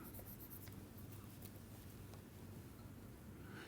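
Faint chalk or marker scratches on a lecture-hall board as an instructor writes out a depth-first search algorithm, with soft, scattered strokes over a low room hiss.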